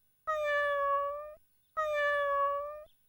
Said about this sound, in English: I'm calling my cat.